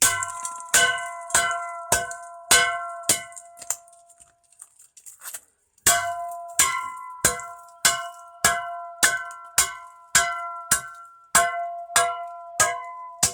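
Shovel blows smashing brittle knock-off plastic toy police vehicles, a steady series of sharp, loud clanging cracks about every half second, with a short pause midway, no talking.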